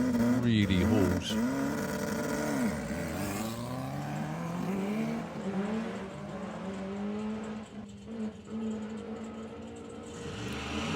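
A Volkswagen drag racing car accelerates hard down the strip at a Summer Nationals qualifying round, its engine roaring loudly and steadily with rising pitch sweeps, under continuous commentary.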